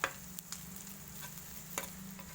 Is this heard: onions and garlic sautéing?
yes